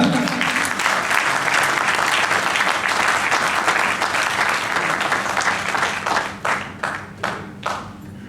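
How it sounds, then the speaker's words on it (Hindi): Sustained applause from a mushaira audience in Scotland greets poet Naeem Haider, dense and steady before breaking into a few separate trailing claps at the end. "आपकी बहुत सी तालियों में मैं दावत देने जा रहा हूं नईम हैदर।"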